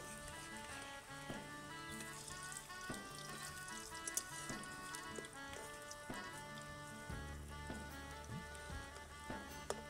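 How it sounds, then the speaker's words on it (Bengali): Taro fritters deep-frying in hot oil give a steady, close sizzle over the full ten seconds, with some tonal background sound layered over the frying. "কিছুক্ষণ সময় ধরে কচুর বড়াটাকে উল্টে পাল্টে ভেজে নিব।"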